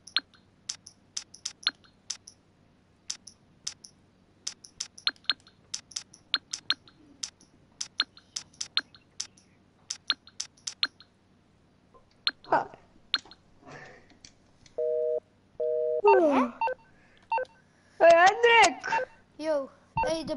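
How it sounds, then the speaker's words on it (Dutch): A telephone being dialed: a long run of sharp keypress clicks and dial tones, then a few short, steady two-note beeps like a busy signal, followed by voices talking. "ik ga hem even opnieuw bellen"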